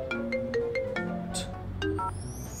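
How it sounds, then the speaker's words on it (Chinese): A phone call's ringing tone plays as a short melodic sequence of bright electronic notes, clear and fairly close, with no speech. "给凯文打个电话吧"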